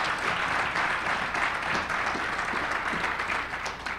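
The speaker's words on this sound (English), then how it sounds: "So if everyone can just give Doug a round of applause." An audience gives a round of applause to the moderator of a panel, a steady wash of many hands clapping at moderate volume throughout.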